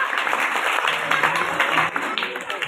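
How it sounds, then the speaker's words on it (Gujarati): Audience applause welcoming an honored guest at a Koli community organization event in Porbandar, Gujarat: a steady wash of clapping with voices mixed in, fairly constant throughout. "જોરદાર તાળીઓના ગડગડાટથી આપણે એમને વધાવીશું."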